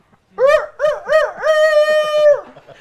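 On a comedy talk show, a man imitates a rooster crowing with his voice: three short rising-and-falling calls, then one long held note that cuts off, loud and close.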